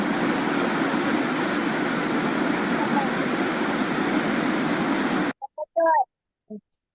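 Continuous rushing sea waves wash loudly for about five seconds, then cut off, followed by a few brief faint sounds.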